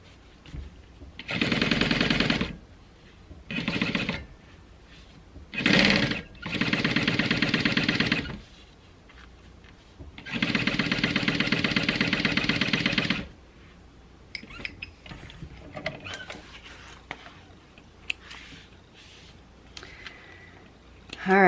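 A Juki 1181 sewing machine stitches a Koda bag in several bursts of rapid, even mechanical whirring, the longest running about three seconds, separated by pauses filled with soft handling of fabric.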